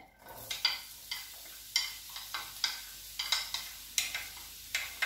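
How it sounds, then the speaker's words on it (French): Onions frying and sizzling in a pan while a spatula stirs them, with about a dozen rhythmic scraping strokes over a steady sizzle, close by. "Je prends ma spatule. Je veux un peu griller mes oignons."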